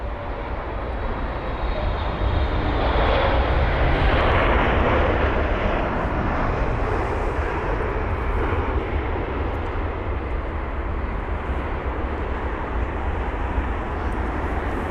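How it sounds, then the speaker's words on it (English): A Boeing 777-300ER jet arriving from Istanbul lands at London Heathrow, its engines giving a loud, steady roar that swells slightly and then holds for the whole stretch, with no talk over it. "it's 777-300ER from Istanbul"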